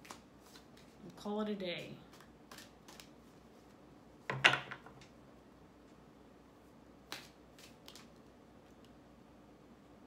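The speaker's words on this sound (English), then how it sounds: "let's get a Dreams of Gaia tarot card for Taurus and wrap this up." Dreams of Gaia tarot cards are shuffled and drawn in two short, crisp riffling bursts, with a faint tap afterward. A person talks between the card sounds.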